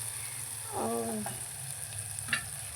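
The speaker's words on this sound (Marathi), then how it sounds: "टोमॅटो मऊ होऊपर्यंत भाजून घेऊया" Onion, tomato, ginger and garlic frying in a pan, with a continuous soft sizzle and a few spoon-stirring scrapes and clinks.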